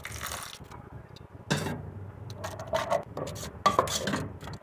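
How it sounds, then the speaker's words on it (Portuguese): Beans sautéing for Brazilian feijão tropeiro as a utensil stirs them in a pan, giving several short bursts of scraping and clinking against the metal, separated by quiet gaps. "E agora a gente vai deixar aqui refogando aproximadamente 2 minutinhos"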